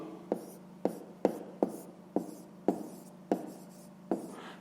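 Pen or pencil on paper writing out a math exercise, a series of about eight distinct scratchy strokes in a steady rhythm, close and fairly clear over a low steady background hum.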